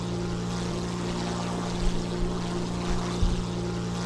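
Steady droning roar of a Ta-152 fighter plane's piston engine in the War Thunder combat game, a constant loud hum with a few low bumps and no voices.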